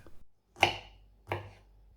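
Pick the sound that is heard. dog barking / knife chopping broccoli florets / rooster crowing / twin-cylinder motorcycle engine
knife chopping broccoli florets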